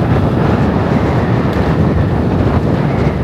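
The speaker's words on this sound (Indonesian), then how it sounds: "Anginnya lumayan kencang di Sidrap teman-teman." Strong wind buffeting the microphone while riding a motorbike in Sidrap, a loud, continuous rumbling roar with no voices.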